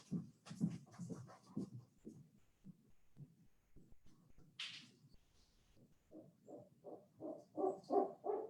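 A captive bird of prey, an owl, hoots at close range, first as a run of low rhythmic hoots, then after a pause as a louder series of deeper pulsing hoots, with faint handling noise between.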